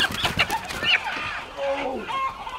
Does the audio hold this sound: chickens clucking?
yes